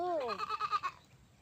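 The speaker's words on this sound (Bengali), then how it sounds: "এই যে এটা ঘাস খাচ্ছে, ওর নাম হচ্ছে খাসু।" A goat bleats once up close while grazing on grass in a Bangladeshi village, a wavering, harmonic cry that trails off into quiet.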